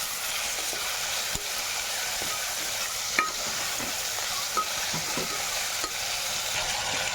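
Mutton stirred into fried ginger in a pan for gongura mutton, a low steady sizzle with occasional knocks and scrapes of the spoon, fairly quiet and close, no voices.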